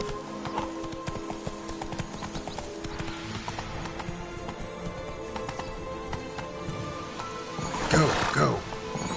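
Horse galloping in The Witcher 3 video game, steady rhythmic hoofbeats at close range with a whinny near the end, layered over game ambience.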